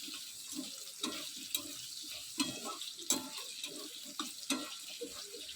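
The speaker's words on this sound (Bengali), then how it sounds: "পনিরের তরকারি যেমন করে আলু ভাজছি" Potatoes fry in a pan for a vegetarian paneer curry, a soft, faint sizzle broken by regular stirring scrapes and clatters about once a second.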